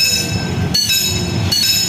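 A train passes Indihiang station in Tasikmalaya, loud and close, with steady rumbling wheels, a high metallic ringing squeal, and two sharp clacks as wheels cross rail joints.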